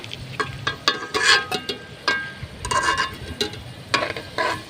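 Potato pieces frying in hot oil for chicken biryani, stirred now and then; intermittent crackling sizzles and scraping bursts at close range, with no talk.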